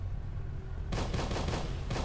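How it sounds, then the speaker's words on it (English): Turrets fire in the Volcanoids video game in a quiet, steady background hum before a sudden burst of rapid gunfire breaks in and continues in dense, rattling volleys. "in the background I can hear our turrets firing"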